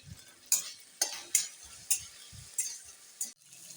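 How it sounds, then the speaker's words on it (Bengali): Spice paste with cumin powder and ginger water being sautéed in a pan, a low sizzle punctuated by about seven regular scraping strokes of a spoon stirring. "এই মশলাটা ভালোভাবে আমি কষে নিচ্ছি"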